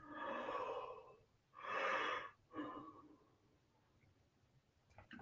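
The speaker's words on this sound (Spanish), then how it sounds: "bostezando" Three drawn-out breathy exhalations from a person yawning and stretching during a calm guided relaxation, each a few seconds long and close, with brief quiet gaps between them.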